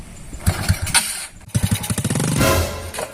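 A motorcycle engine sputters and revs in a series of close, uneven bursts, briefly cutting out before firing again into a louder run of rapid pulses.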